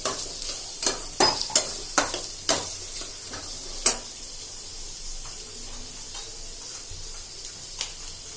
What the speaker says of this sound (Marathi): कांदा फ्राय लो हीटवर ठेवायचा आहे